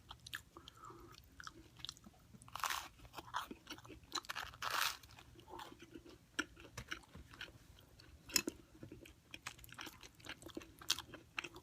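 Close crunching and chewing of toast at a barbecue joint in Nashville, irregular crisp bites and mouth sounds over several seconds, quiet and intimate with no talking.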